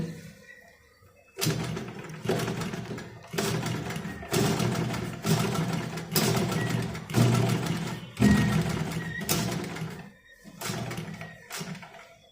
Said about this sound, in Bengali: আচ্ছা আমরা সেলাই করছি এখন